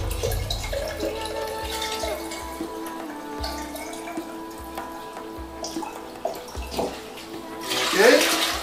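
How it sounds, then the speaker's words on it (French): White vinegar pours into a jar of water, a liquid splashing and trickling that builds into a louder gush near the end, close and quiet with faint background hum. "Je vais ajouter une demi-portion de vinaigre blanc."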